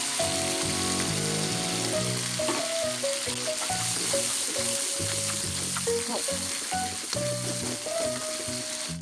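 Steady, loud sizzling of stink beans (petai) frying in a pan for sambal, with occasional stirring and scraping sounds throughout, no voices.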